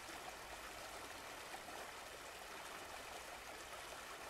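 A stream at a waterfall, its water rushing and flowing in an even, steady broadband wash, fairly faint and constant, with no voices.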